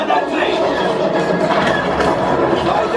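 Rumbling train effect on a Disney's Hollywood Studios ride, a steady loud clatter that fills the whole stretch, mixed with ride noise and people talking over it.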